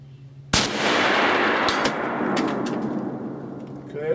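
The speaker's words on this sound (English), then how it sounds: "Third shot in the group." A single sharp, loud muzzleloader rifle shot at a shooting range, followed by a long booming decay that rolls out over several seconds, with faint clicks afterward.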